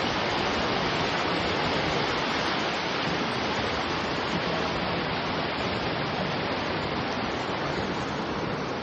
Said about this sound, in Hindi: और ये हमारे खेतों का पानी।